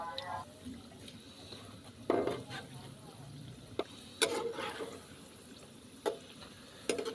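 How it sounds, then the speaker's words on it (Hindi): Potato and eggplant pakoras fry in hot oil with a steady bubbling hiss. Occasional soft scrapes and knocks come as they are stirred and turned in the pan. "ऑयल के अंदर पकोड़े डाल दिए हैं।"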